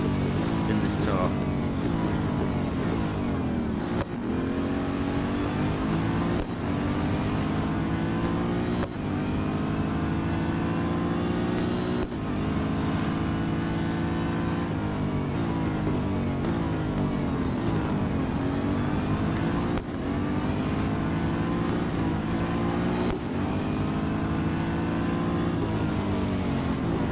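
Car engine in the Real Racing 3 racing game, a loud continuous drone rising and falling through repeated gear changes, with a voice talking over it.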